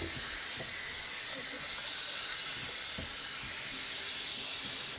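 A pot of water with fish in it hisses and rumbles as it heats toward a boil, with a steady, even steam-like roar and faint bubbling.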